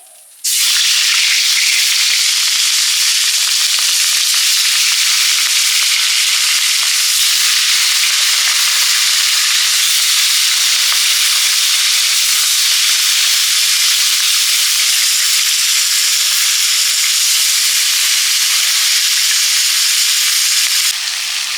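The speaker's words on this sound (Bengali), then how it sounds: "গরম হয়ে গেছে মাছগুলো ভাজছি" Pieces of fish fry in hot mustard oil with a loud, dense, unbroken sizzle and hiss that starts suddenly and holds steady at close range until the very end.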